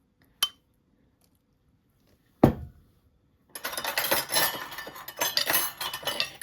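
A prawn salad is tossed with dressing in a bowl: two sharp utensil clinks against the dish, then a busy stretch of wet, rustling stirring and scraping, close and without talk.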